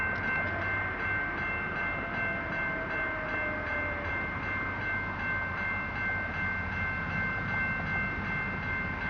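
A train with two SD40-3 locomotives rumbles past steadily, with a constant mechanical drone and a high whine throughout, no talking.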